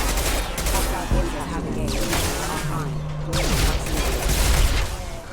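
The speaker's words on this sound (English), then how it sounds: "Shoot them before they take out the shield." Bursts of gunfire against hostile mechs in the video game Mass Effect 2, rapid shots and impacts crackling through a busy battle mix, with voices talking over the fighting.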